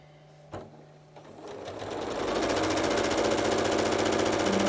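A sewing machine stitching the sides onto a quilt block starts up after a brief handling knock, then settles into a steady, fast, close mechanical whir that holds without pause.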